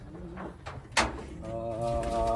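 Racing pigeons in a loft, soft cooing and rustling with a sharp knock partway through, then a steady throaty coo carrying to the end, a voice murmuring faintly.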